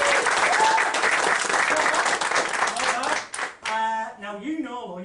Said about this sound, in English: On the count of 3, everyone claps together.